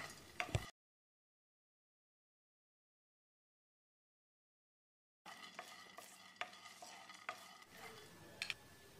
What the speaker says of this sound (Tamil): முப்பது கிராம் நிலக்கடலை சேர்த்து ஒரு நிமிஷம் கருகாத அளவுக்கு வறுத்தரலாம்